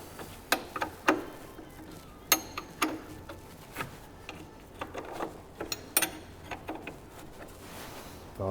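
Metal clicks and ratchety ticks from a wrench turning a stubborn nut by hand on a race team's engine, arriving as irregular, fairly close sharp taps with short pauses between.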